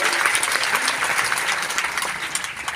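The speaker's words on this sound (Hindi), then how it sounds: "सभी पधारे हुए मेहमानों का जोरदार तालियों से स्वागत करेंगे" An audience bursts into hearty applause to welcome guests at a memorial event for a martyred soldier, a dense crackle of many hands clapping close by for a few seconds.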